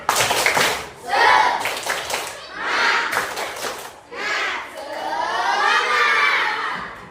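A primary school class doing a rhythmic spirit clap in a classroom, bursts of children's clapping and shouted chanting in a patterned sequence, loud and close, with short pauses between phrases.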